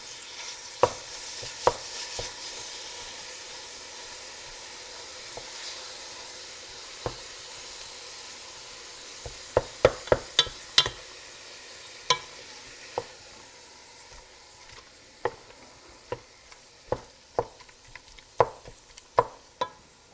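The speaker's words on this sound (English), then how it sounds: "We're just going to stir this up as we're cooking it. Break it up real good." Meat for bacon cheeseburger soup browns in a hot pan, a steady sizzle broken by repeated sharp scrapes and taps of a utensil stirring and breaking it up, close by.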